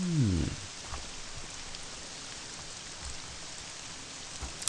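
Rain patters steadily in the game Morrowind, a soft even hiss of drops with a brief falling tonal sweep at the start and a few faint thumps.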